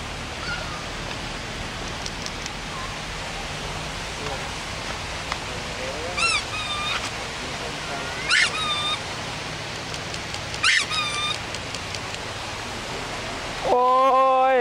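Rushing water from a waterfall pours as a constant hiss close by, with faint chirps and squeaks rising briefly above it and a voice breaking in at the very end.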